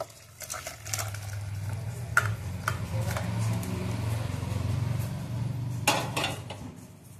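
Ilish fish curry is served from a pan into a pot, with soft scraping and stirring over a low kitchen hum, punctuated by a few sharp metallic clinks of utensil against cookware.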